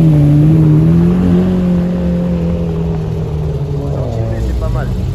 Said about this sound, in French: Petite Murcielago.